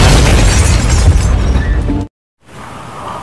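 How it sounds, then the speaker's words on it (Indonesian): A loud, roaring explosion from a car in a Breaking Bad scene, with a broad blast that rumbles for about two seconds, cuts to sudden silence, then quieter debris-like noise follows. "Lalu terjadilah ledakan."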